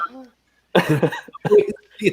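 A short cough near the microphone, then a burst of nearby talking with another cough mixed in.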